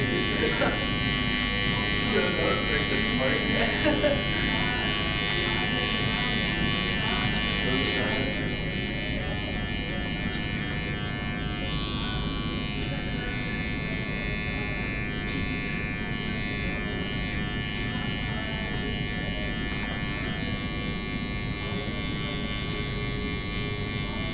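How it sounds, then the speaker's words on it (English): Electric hair clipper with its guard fully closed buzzing steadily and continuously while cutting a burst taper fade, with a barber talking over it throughout. "I'm just gonna have my clipper completely closed, and I'm just gonna follow the shape that I created"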